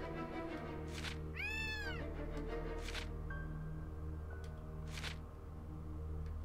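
Cat meowing in the Gravity Rush Remastered video game, a rising-falling meow near the start followed by further softer mews, all set over a steady humming game music bed with no talk.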